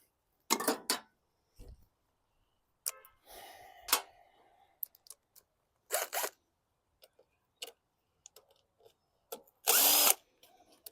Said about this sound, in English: switch my bit to a 7 for the 2 inner screws that go directly into the carby